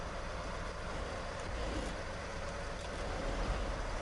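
A truck engine in the SnowRunner game, started after lying in a river, runs at a steady low idle with a continuous rumble and broadband noise, alone with no talk.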